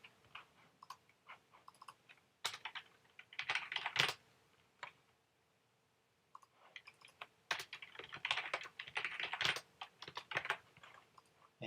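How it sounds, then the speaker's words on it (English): Typing on a computer keyboard while entering login details, in bursts of quick clicking keystrokes separated by short pauses, fairly close and without talk. "I think I might be typing it wrong."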